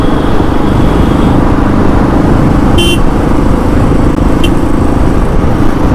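Motorcycles cruise along a highway on the ride back from Daringbadi, a loud, unbroken engine and wind roar filling the clip, with two short horn toots cutting through it.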